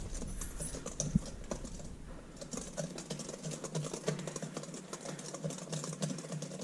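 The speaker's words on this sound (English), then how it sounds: "I'm gonna start whisking up my cornbread batter here." Cornbread batter is whisked by hand in a bowl with rapid, steady tapping and clicking strokes close by, running unbroken and fairly quiet with no talking.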